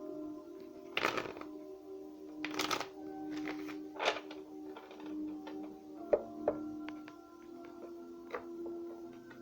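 A tarot card deck being shuffled by hand, with a few soft, brief riffling bursts up close over a steady low hum.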